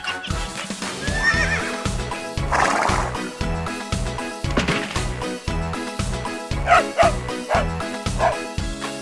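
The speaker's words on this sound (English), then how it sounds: "Horse." A horse neighs loudly in a long whinny, set over a steady rhythmic music beat that runs the whole time, as part of a children's animal-names sequence.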